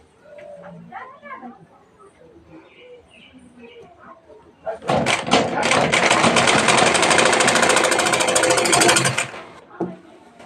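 A sewing machine stitches piping onto a blouse in a loud, steady run of about four seconds, after soft talk and faint bird coos, then stops abruptly.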